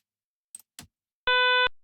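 An LPC-10 voice codec plays a short, buzzy, synthetic tone at a steady low pitch, lasting under half a second, after two faint clicks in near silence.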